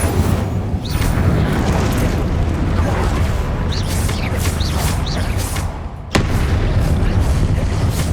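Hogwarts Legacy's Incendio fire spell erupts in a sustained, loud roaring burst of flame and rumble, with a sharp crack near the end before the fiery rush resumes.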